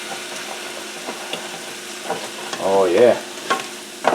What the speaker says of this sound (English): I'm going to deglaze the bottom of that pan there.